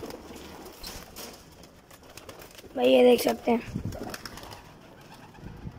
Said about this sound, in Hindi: सारे कबूतर हमारे बाहर आ गए माशाल्लाह से।